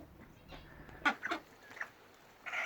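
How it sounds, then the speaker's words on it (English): A few scattered clucks and squawks from a flock of laying hens, fairly close, with short bursts spaced across the clip over a quiet background. "Here we are down in the layers flock, and there are a lot of chickens at the moment."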